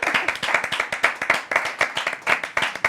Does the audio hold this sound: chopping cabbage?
no